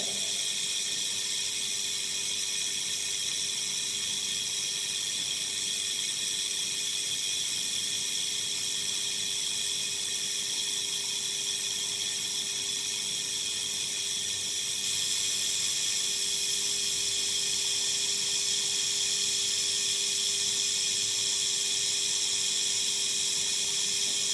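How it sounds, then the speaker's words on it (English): Water boils on an electrically heated wire carrying about 9 amperes in a critical heat flux experiment, a steady loud broadband hiss with a constant hum, continuous and unbroken throughout. "Now see the boiling phenomenon on the wire surface"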